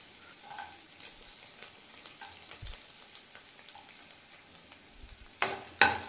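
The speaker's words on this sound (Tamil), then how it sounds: "இந்த எண்ணெயிலே லேசாக வதக்கிக்கோங்க. பூண்டை லேசாக செவக்க வறுத்தாச்சு, வதக்கியாச்சு." Chopped garlic sautés in hot oil for a fish curry, a steady soft sizzle with occasional stirring scrapes and a couple of louder clinks near the end, close and without talk.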